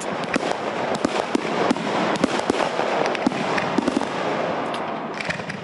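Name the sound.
fireworks display being set off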